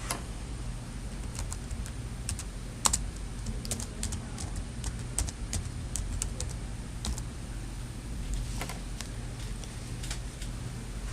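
Typing on a computer keyboard, sparse irregular clicks and taps over a steady low background hum, with one sharper key strike standing out.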